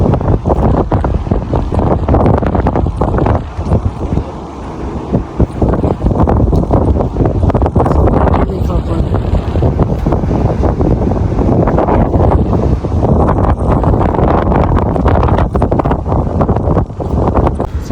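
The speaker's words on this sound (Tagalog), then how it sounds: "Sobrang lakas ng hangin sa kartehan." Strong wind batters the microphone on a boat in the Maldives, a loud continuous roaring buffet with gusty surges and a wash of sea behind it, steady for the whole stretch.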